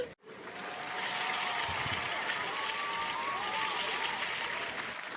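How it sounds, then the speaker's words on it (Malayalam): A class of young children applauds a classmate, a dense, steady burst of many small hands clapping that fills the room for about four seconds after a brief pause. "എല്ലാവരും അബുവിനൊരു ക്ലാപ്പ് കൊടുത്തേ"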